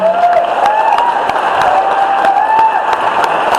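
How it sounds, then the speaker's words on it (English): Audience at a general meeting applauds steadily and fairly loudly through the whole stretch, with some tonal sounds riding over the dense clapping. "So, again, a round of applause"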